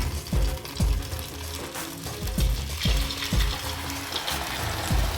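Spiral potato frying in hot oil, a continuous bubbling sizzle with repeated low thumps and clatter from handling in the pan, no talking.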